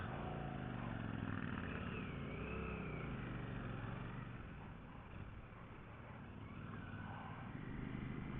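Royal Enfield Classic 650 motorcycle on a ride along dry roads, its engine a steady loud drone with slight shifts in pitch, wind noise mixed in throughout.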